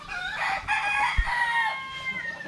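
A gamecock rooster crows loudly and close by, one full drawn-out call with clucking fowl around it, and no talking.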